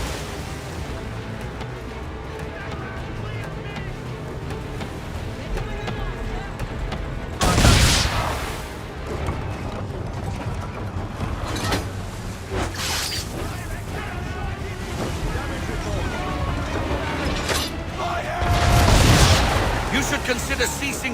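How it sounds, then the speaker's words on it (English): Booming ship cannon fire during a naval battle in Assassin's Creed III, with two heavy broadside blasts standing out over a continuous din of game action and ocean noise. "You should consider ceasing fire, or at least switching to chain shot."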